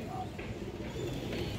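Pigeons of an old breed with boot beaks coo softly and continuously at close range, low throaty murmurs over a background of other birds.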